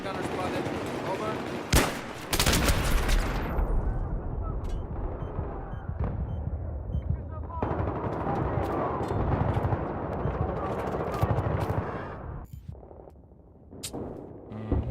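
Machine gun fire rattles through a Battlefield 3 battle in a PC game, with repeated bursts and sharp shots over a steady rumble of combat. A voice speaks briefly.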